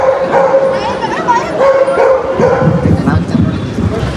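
Small dogs yipping and barking amid a lively crowd at a college dog show, short repeated barks and whimpers mixed under constant nearby chatter and talking.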